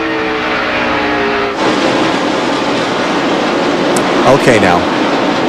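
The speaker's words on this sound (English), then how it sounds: "Loudest racetrack on the circuit. Cars going around at full speed." NASCAR stock cars race at full speed during the 2002 Sharpie 500, a loud, steady roar of engines filling the track, with a brief spoken remark over it.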